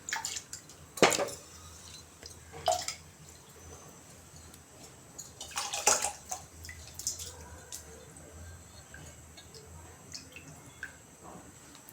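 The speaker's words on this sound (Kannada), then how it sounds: "ಈಗ ಅಕ್ಕಿನ ಹಾಕ್ಕೊಳ್ತಾ ಇದ್ದೇನೆ" Parboiled rice pours into hot water in a pressure cooker, heard as a few short bursts of pattering splashes and clatter separated by a quiet background hiss, close by and without talk.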